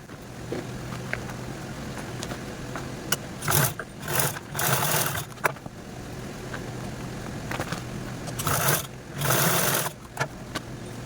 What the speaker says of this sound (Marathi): हा जो बॉटमचा पार्ट आहे तो आपल्याला अशा पद्धतीने पकडून यावरती पण स्टिच करून घ्यायची आहे